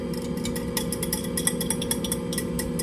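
An electric mixer runs on low speed, beating batter-roll dough with a beaten egg in a bowl: a steady, close motor hum with light clinks of beaters against the bowl throughout.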